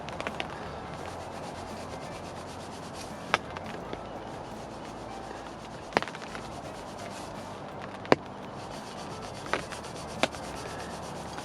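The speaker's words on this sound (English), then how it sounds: "No finesse to my hook sharpening, just back and forth on 3 sides." A fishing hook is sharpened by hand with steady back-and-forth strokes on three sides, producing a faint, continuous rasping scrape with a few sharper clicks, heard up close outdoors at a carp syndicate lake with no talking.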